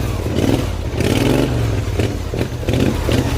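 Hot-rod lawn tractor with a Briggs & Stratton engine revving and driving through woods, a loud close engine drone rising and falling with gear changes, rattling and clattering over the terrain.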